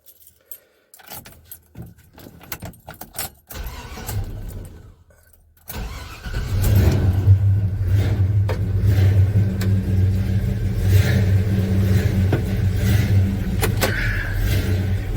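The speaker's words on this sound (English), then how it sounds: "Let's see if we can see if we can get this thing started." A 1984 Chevy C10 pickup has keys jangle in the ignition, then the engine cranks, catches and settles into a loud, steady rumble with revving swells, close to the listener inside the cab.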